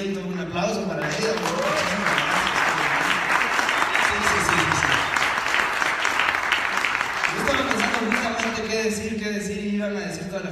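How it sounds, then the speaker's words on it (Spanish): A studio audience in Guadalajara claps steadily and fairly loudly for several seconds, while voices and music run underneath and a man's speech comes back in over the dying applause near the end. "Un aplauso para ella"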